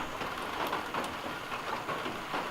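Steady rain falls in a backyard, a dense, even hiss with occasional brighter drips, faint and continuous, no voices.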